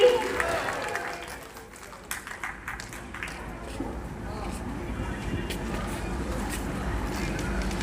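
At a Kabir devotional gathering, faint talking at first gives way to a soft, continuous wash of audience applause that builds and holds toward the end.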